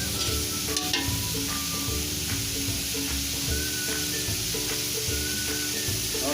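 Meat sizzles and crackles steadily in its own rendered fat in a pan while pancit bato is being prepared, with occasional scraping stirs over a continuous hiss.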